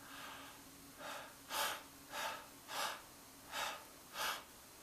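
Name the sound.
deep breathing into the abdomen during vocal warmup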